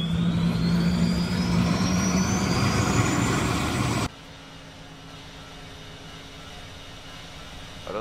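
An A-10 aircraft engine in the Roblox game Proving Ground, North Carolina, a loud steady roar with a rising whine that cuts off abruptly halfway, leaving a faint low hum.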